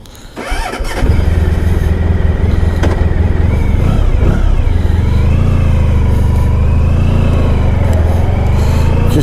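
A 1994 Honda ST1100 motorcycle starts up and settles into a loud, steady engine drone while riding, with shifting pitch as the engine revs.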